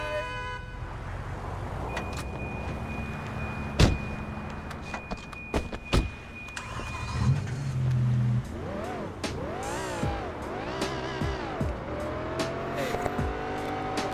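Sleeping Dogs car engines rev and whine, with horn toots, tire squeals and sharp impacts, loud and continuous throughout.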